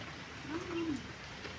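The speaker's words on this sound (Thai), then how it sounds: "ได้ยินเสียงฝนไหม" Rain falls lightly but steadily outside a Buddhist cave temple in southern Thailand, a soft, continuous patter with faint bird cooing in the background.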